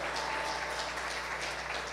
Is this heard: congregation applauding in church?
yes